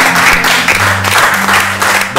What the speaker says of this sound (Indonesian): Wah, luar biasa, tepuk tangan dulu.